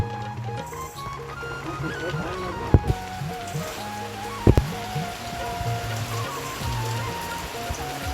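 Monsoon rain pours steadily over Konkan farmland at rice-planting time, with voices murmuring underneath and a couple of sharp knocks partway through.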